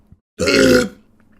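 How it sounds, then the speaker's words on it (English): A single loud, deep burp from a man, lasting about half a second and heard close up against near silence. "I had a big burp stuck in my throat right there"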